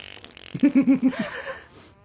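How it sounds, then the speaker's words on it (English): A comic fart in a TV comedy episode: a quick run of four loud, evenly spaced low pops followed by a trailing squeak, heard alone with no talk. "She's gonna fart she's gonna fart."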